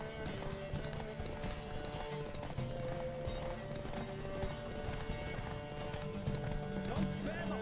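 Horse hooves pounding in a race in The Witcher 3, a rapid continuous clip-clop under a layered game soundtrack with occasional snorts, moderately loud and steady.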